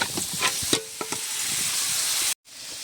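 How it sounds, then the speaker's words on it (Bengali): Shredded cabbage stir-fried with spices in a pan, a loud steady sizzle with a few spatula scrapes and taps early on, then a continuous hiss that cuts off abruptly near the end. "বাঁধাকপিটা দিয়ে সমস্ত মশলার সাথে বেশ ভালোভাবে মিশিয়ে নিয়েছি"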